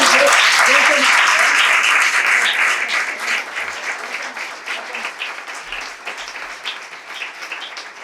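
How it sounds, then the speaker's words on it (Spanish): An audience at a panel discussion applauds the moderator: dense, loud clapping from many hands that gradually thins and fades across about eight seconds. "luego le vamos a pedir un aplauso"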